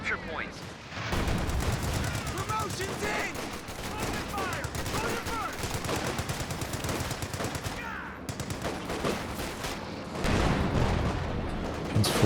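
Tank and infantry gunfire in a Company of Heroes 2 online match, a continuous mix of rapid machine gun bursts and heavier booms, heard under a voice talking over the action.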